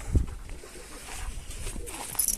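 Black breeding game pigeons coo in a loft, soft low cooing with a louder call near the start and faint bird sounds over ambient noise.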